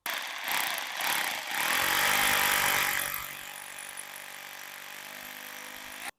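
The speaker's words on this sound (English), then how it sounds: "Drill the holes" A power drill bores holes into a wall during a 1930s bungalow renovation. It opens with a loud, rough grinding burst and then winds down into a steady motor whine that tails off, close by with no talking.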